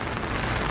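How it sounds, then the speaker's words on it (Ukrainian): Rain falls steadily on a rainy day in Busan, a dense, even hiss of drops on surfaces that holds constant and fairly close for the whole moment. "Дощ є."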